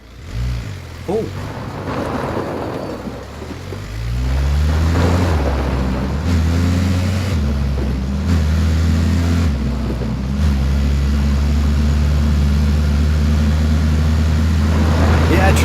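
UAZ car engine in PUBG revving up through distinct gear changes, the pitch climbing then dropping in steps as each gear shifts, loud and steady over roughly fifteen seconds, with a brief voice exclamation near the start.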